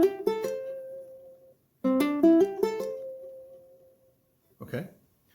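Ukulele scale picked note by note, with hammer-ons sounding later notes after a single pluck: two rising runs of quick bright plucked notes with a pause between, followed by a short burst of noise.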